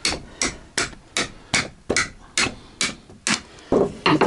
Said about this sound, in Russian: сильно затянуто, вот так молоточком